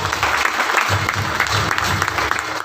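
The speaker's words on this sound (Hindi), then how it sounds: "जोरदार तालियों से स्वागत हो" Steady crowd applause welcomes an award recipient at a journalists' association anniversary ceremony.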